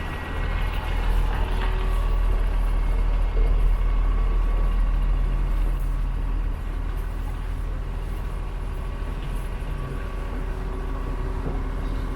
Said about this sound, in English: you can see a shuttle bus arriving here at the station